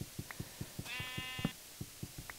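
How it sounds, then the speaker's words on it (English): A sheep in the video game Minecraft gives a single short bleat over a steady pattern of soft, rhythmic game footstep taps, fairly quiet and with no voices. "Oh, what's that? It's a sheep."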